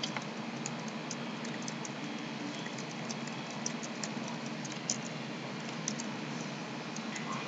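Computer keyboard typing while filling in a sign-up form: a steady run of light, rapid key clicks, fairly quiet and close, over a low background hum with no talk.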